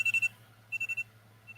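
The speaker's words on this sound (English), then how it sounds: "and that's my alarm going off." An alarm goes off with short rapid electronic beeps in two bursts of about four pulses each, over a steady low hum, fairly faint indoors.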